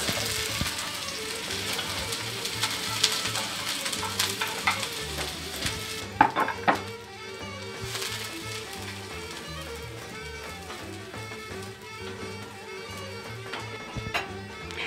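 Chopped onions frying in fat in a pan, a steady close sizzle with occasional stirring and clinks of a utensil throughout.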